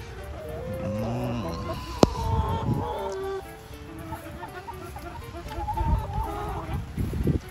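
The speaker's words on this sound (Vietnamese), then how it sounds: "Mấy chú gà của mình." A flock of backyard chickens clucks and murmurs steadily close by in an outdoor pen, with overlapping soft calls and one sharp knock amid the low farmyard noise.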